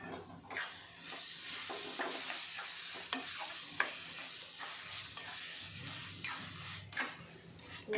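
Eggplant bharit being stirred and mixed in a pan, with repeated close scraping strokes of a spoon over a soft, steady sizzle.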